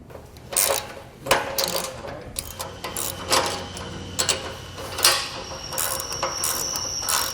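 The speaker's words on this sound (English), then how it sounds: "then we're going to tighten down these bolts on the hangers" Hand ratchet tightening bolts on the spring hangers of a Malone EcoLight Sport trailer, a run of quick metallic clicks in short bursts with small clanks in between, close by, no talk.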